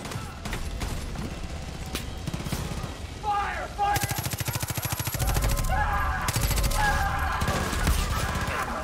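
Gunfire in Far Cry 5 crackles in rapid automatic bursts with sharp repeated cracks. It grows louder and denser halfway through, mixed with other game noise.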